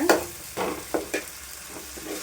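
Ground onion and tomato paste sautéing in a pan, a close, steady sizzle with several short scraping stirs.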